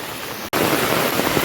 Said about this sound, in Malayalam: മഴ നന്നായിട്ട് കൂടിയിട്ടുണ്ട്.